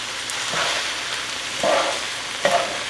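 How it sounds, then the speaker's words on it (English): Ground beef with soy and fish sauce sizzling in a pan for a keto Thai beef curry, a steady close frying hiss broken by a few scraping stirs of a utensil, no talk. "there was a bunch of liquid that rendered from the initial cooking of the ground beef, but we added back some of the liquid with soy and fish sauce"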